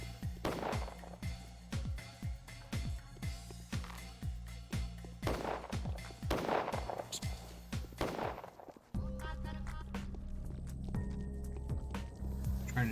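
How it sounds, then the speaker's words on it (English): Gunfire aimed at a rat in the video game Pathologic, a run of sharp, loud reports repeating at a quick, uneven rhythm, followed by a steadier droning game tone. "Trying to shoot the rat there?"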